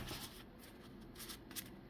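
Quiet, soft riffling of playing cards from the board game Behold: Rome being shuffled close by, in a few brief papery bursts.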